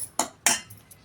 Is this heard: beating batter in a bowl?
yes